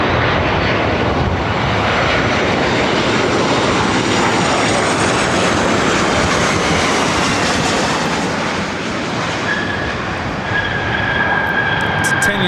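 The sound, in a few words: Delta Airlines 737-900 ER landing, arriving from Portland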